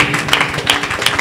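Lively applause from an audience at a Congolese gospel single presentation, many hands clapping in a continuous, bright patter up close, with no talking over it.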